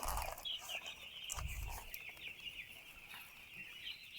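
Chicks cluck and chirp softly in a poultry shed, with a steady high hum running underneath and occasional low thumps.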